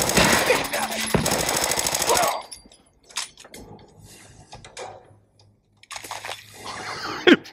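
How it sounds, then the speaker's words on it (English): A fire extinguisher is blown up in Fallout 4, sounding as a loud, dense burst of rattling gunfire and blast noise that cuts off abruptly, followed by scattered clanks and debris. "I blew up the fire extinguisher."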